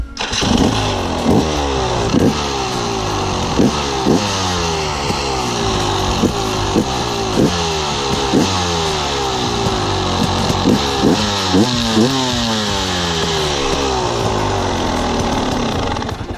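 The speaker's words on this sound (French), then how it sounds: "là il y a un petit démarreur électrique" A 2014 KTM 300 TE two-stroke enduro motorcycle engine running after an electric start, a loud close crackling idle with rhythmic blips of throttle revving up and down throughout.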